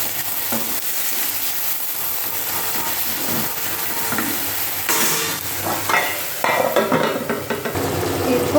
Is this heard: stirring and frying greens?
yes